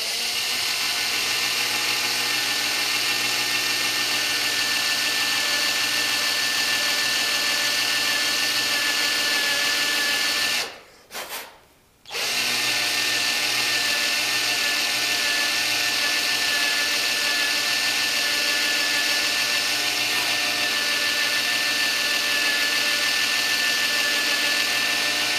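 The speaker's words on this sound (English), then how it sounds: "So I am using a Forstner bit. I hope this will cut." Power drill driving a Forstner bit through a thick plastic gas can, a loud steady whirring grind that runs continuously, cutting out briefly for about a second near the middle before resuming.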